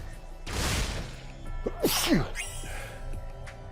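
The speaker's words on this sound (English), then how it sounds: "Why am I sneezing so much?" One close, sharp human sneeze, a harsh burst of breath followed by a short voiced tail and faint rustling.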